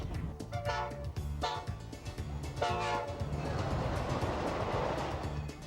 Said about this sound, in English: The locomotive pulling our train this afternoon is old number 90